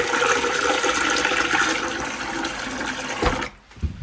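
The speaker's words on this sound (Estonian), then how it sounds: "korra tulen vaatan, kas see köögis vett tuleb või ei" Water rushing steadily from a kitchen tap, a loud continuous hiss that cuts off abruptly near the end, followed by a brief drip or clunk.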